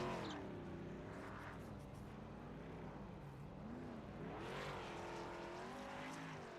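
Race cars revving through burnouts after the checkered flag in an ARCA Series sim race at North Wilkesboro, a loud, steady engine drone with rising and falling pitch sweeps and no talking.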